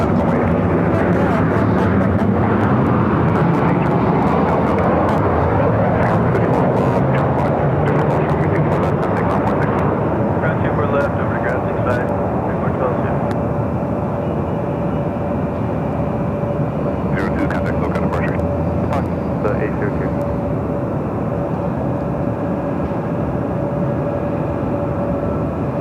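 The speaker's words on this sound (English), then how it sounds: "Zoom in it to the Emirates A380 Super." An Emirates Airbus A380 airliner arriving at Los Angeles International Airport on a clear day, a loud sustained jet roar with a steady whine held throughout, heard at a distance with the engine noise filling the whole stretch.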